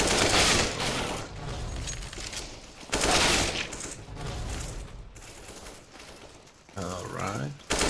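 Counter-Strike: Global Offensive gunfire comes in dense bursts of rapid shots, loud and close, broken by short lulls, with a voice talking over the firing.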